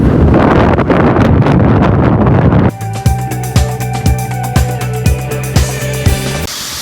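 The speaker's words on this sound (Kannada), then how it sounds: "ಅದು ಫುಲ್ ಗಾಳಿ ಜಾಸ್ತಿ ಆಗ್ತಾ ಇರುತ್ತೆ. ಗಾಳಿಗೆ ಏನು ಕೇಳಿಸೋದೇ ಇಲ್ಲ" Strong wind buffets the microphone with loud, continuous roaring rumble for the first few seconds, then drops to a lighter gusting hiss with rhythmic low thumps and a faint tonal hum underneath.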